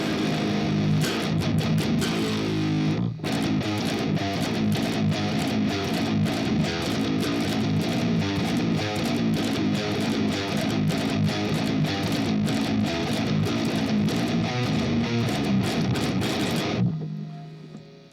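Heavily distorted guitar riffing through a live Fortin Meshuggah amp capture with cabinet simulation, a dense, chugging, sustained tone with a brief break near three seconds, played alone for about seventeen seconds before ringing out.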